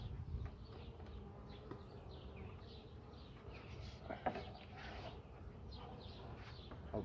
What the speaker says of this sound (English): The bees are super active.